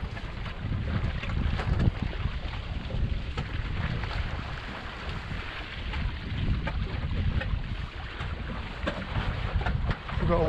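Westerly wind buffeting the microphone while sailing a Wayfarer dinghy, a constant loud low rumble with water sloshing against the hull throughout.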